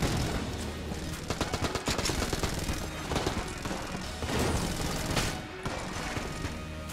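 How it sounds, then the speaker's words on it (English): Gunfire in Enter the Gungeon from a weapon that launches an orb which then blasts, heard as a continuous barrage of sharp, rapid shots and bursts over loud, busy game noise. "we've got this weird gun that just fires like an orb and then fucking blasts and does shit"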